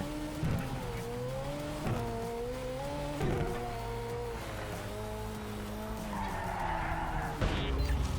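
McLaren 720S in the racing video game Project Cars 3, engine revving steadily through gear changes with tyres skidding and squealing almost continuously, loud and close throughout.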